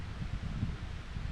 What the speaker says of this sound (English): Big old gust of wind there.